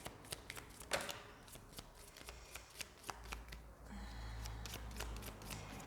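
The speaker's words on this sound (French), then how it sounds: "laissez-moi tirer les deux autres cartes" Oracle cards being drawn and shuffled by hand, with a series of soft, quick riffling and slapping card sounds close by, fairly quiet, a few sharper snaps early on, no talking.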